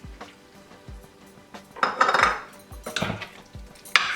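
A utensil scrapes and clinks against a pan while butter chicken sauce with cream is stirred, uneven bursts of scraping over a faint sizzle, close up with no voices.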